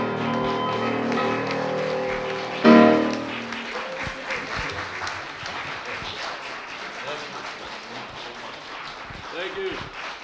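An audience applauds after a live piano performance; steady clapping fills the room, then a sudden louder swell of applause fades as someone speaks over the crowd.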